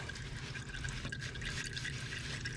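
Engine oil from a 2005 Kawasaki Brute Force 650 cc V-twin ATV draining into a pan, a steady close trickling and dripping flow with no pauses or voices.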